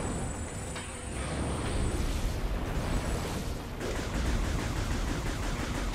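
Continuous weapon fire against the first boss in Metroid Prime 3, a dense barrage of rapid shots and explosive blasts hammering without pause, loud and close.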